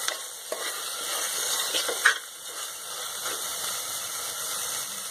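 Tomatoes sizzle steadily in hot oil for a mustard eggplant curry while a spoon stirs and scrapes the pan now and then, close and continuous with no talking.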